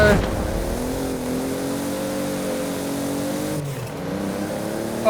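A Toyota Supra engine in Forza Horizon 4 holds a steady, loud drone, then drops in pitch briefly near the end as if shifting gears, with a voice talking over it.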